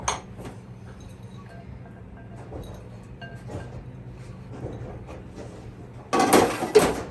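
A utensil stirs potato salad with dressing and celery in a bowl, giving soft scattered clinks and scrapes, then a louder burst of clattering mixing near the end; no talking.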